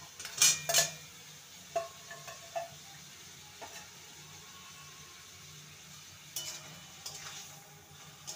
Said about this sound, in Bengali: সয়াবিন আলুকে মশলার সাথে ভালো মতন কষিয়ে নিয়েছি